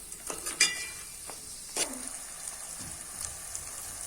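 Tomato curry is stirred in a pan, a faint low simmer under a few scattered scrapes and soft clinks of the utensil against the pan.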